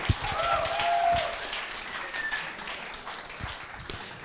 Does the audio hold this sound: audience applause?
yes